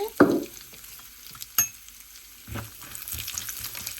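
Walnuts being dry-roasted in a pan on the stove, a soft continuous sizzle with a few louder stirring scrapes and knocks, no voices.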